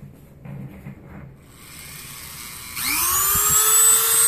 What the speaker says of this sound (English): And then we're going to get the Dremel.